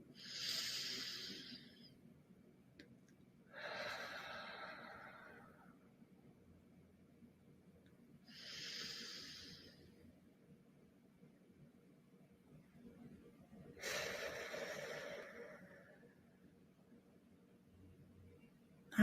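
Slow breathing during a pelvic floor exercise, with long breathy inhales and exhales alternating in four separate phases. The breaths are close and soft against a quiet room, with long pauses between them.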